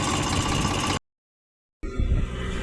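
A tractor engine rumbles steadily on a farm, broken by about a second of silence before the low running sound resumes.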